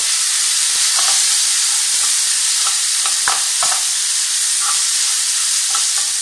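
A spoon stirs a seasoned meat mixture with garlic powder, cayenne and salt in a frying pan, giving scattered scraping clicks over a steady, close frying hiss.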